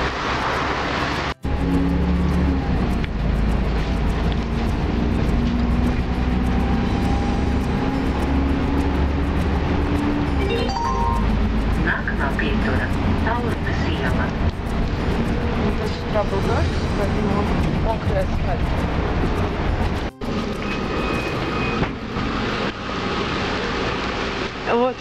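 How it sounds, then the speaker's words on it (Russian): Continuous engine rumble and road noise from inside a city bus in Riga at early morning, steady and fairly loud, with brief voice moments over it. "Вот это мой автобус, на котором я поеду."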